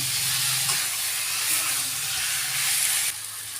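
Spices, pointed gourd and potato frying together in a pan, giving a loud, steady sizzling hiss close up that holds constant throughout.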